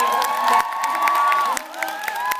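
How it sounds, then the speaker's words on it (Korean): A theatre audience at the close of a Korean musical performance cheers and claps, with sustained whoops and shouts over scattered applause, one high voice standing out. "즐거운 박수 한번 부탁드립니다."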